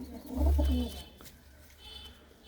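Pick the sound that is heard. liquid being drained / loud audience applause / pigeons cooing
pigeons cooing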